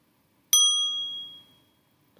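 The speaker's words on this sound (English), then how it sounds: "And I'll keep time with the bell" A single bright meditation bell strike rings out clearly and its clean tone slowly decays into silence.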